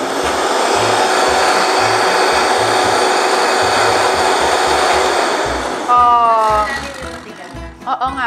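A Vitamix blender runs loud and steady as it crushes frozen banana into a smoothie, then winds down near the end while voices come in.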